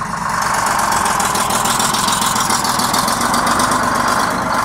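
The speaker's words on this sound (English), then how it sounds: "lovely Detroit diesel sounds" A long-idle Detroit diesel bus engine idles and runs steadily up close, a loud continuous rumble with a rattling, knocking texture throughout.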